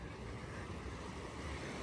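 Sea waves wash at the shore in a continuous broad roar, close and steady for under two seconds, blended with wind noise and no voices.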